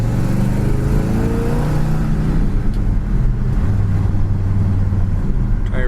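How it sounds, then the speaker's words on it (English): A 1968 Pontiac GTO engine runs steadily while driving, a low continuous rumble with slight shifts in pitch and no talking. "The engine doesn't miss a beat."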